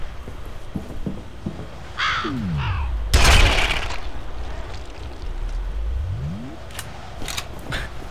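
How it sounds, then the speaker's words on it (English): Crows cawing in slow motion in the video game F.E.A.R., drawn-out, pitch-bent caws that swoop down and rise again, with a loud burst of impact noise in the middle and scattered clicks around it. "Alright, these crows sound the best in slow motion."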